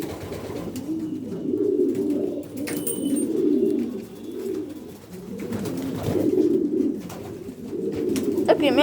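Male pigeons coo steadily in a loft, a low, continuous rolling murmur of overlapping calls from several birds that swells and fades over the whole stretch, fairly close, with faint brief chirps and background noises.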